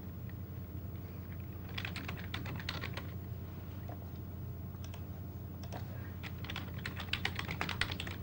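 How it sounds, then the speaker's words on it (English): Rapid, feverish typing on a computer keyboard clatters in irregular bursts of clicks, moderately close, over a steady low hum during a live online poker broadcast. "You can hear the feverish typing into the chat box."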